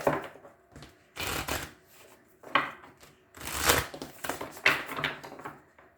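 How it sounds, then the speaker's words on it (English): Tarot cards being shuffled in several quick riffling bursts, close by, with short pauses between each round and no talking. "Do one more shuffle."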